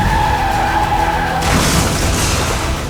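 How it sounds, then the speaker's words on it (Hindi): A speeding truck slams into a police car on a narrow road, giving a loud skid-like screech that cuts into a broad crashing burst and rumbling noise, close and with no talking. "एक तेज रफ्तार ट्रक ने पुलिस की गाड़ी को जोरदार टक्कर मारी।"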